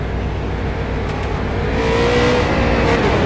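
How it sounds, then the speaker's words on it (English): A street stock race car pulls away off pit road at Iowa Speedway during a Bump 'N Run event, its engine a loud steady roar that rises in pitch toward the end, with no talk. "Johnny Smith making his way off pit road"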